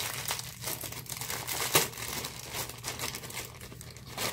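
A package of Top Stick grooming tape for a wig crinkles and rustles as it is handled up close, a soft continuous crumpling with one louder crackle partway through and no talking.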